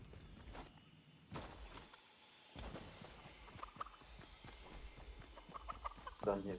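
A chicken in the video game Fortnite clucks in short, scattered bursts amid game footsteps and rustling, fairly faint, with brief talk nearby.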